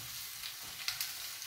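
Artichokes sautéing in a pan for risotto, a soft quiet sizzle with a couple of faint clinks or stirring taps, no talking.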